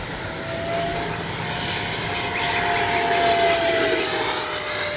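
A radio-controlled F-86 model with a 64 mm electric ducted fan climbs straight up at full throttle, giving a steady, loud jet-like whine with a gliding tone that shifts slightly as it moves against a windy outdoor background.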